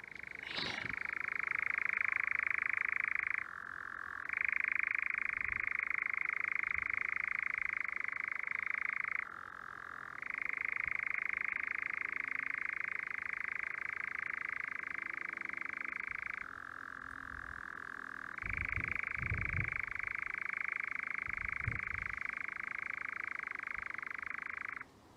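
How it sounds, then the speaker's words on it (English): A frog croaking on Aylesbeare Common heathland in Devon, a loud, continuous churring trill in long bursts separated by brief pauses, close by, with faint rustling and a few soft knocks underneath. "It just sounds like a demented frog."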